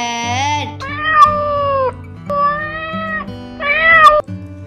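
A cat meows several times in a row, drawn-out, bright and close, each call rising and falling in pitch over a steady musical backing.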